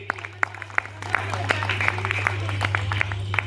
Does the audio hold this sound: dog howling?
no